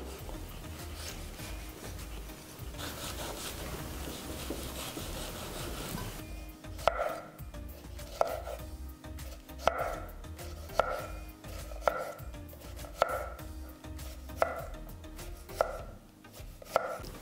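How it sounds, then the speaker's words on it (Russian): A knife thinly slices cucumbers on a cutting board, a sharp knock roughly every second after a stretch of rough rubbing and scraping. "И нарезаем очень тонко"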